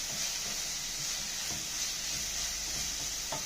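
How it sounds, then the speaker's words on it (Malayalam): Beef varattiyath in a pan, pepper powder just added, being stirred with a soft steady sizzle of frying and a few faint scraping strokes of the spoon, no voices. "എന്നിട്ട് ഒന്ന് ഇളക്കി കൊടുക്കാം."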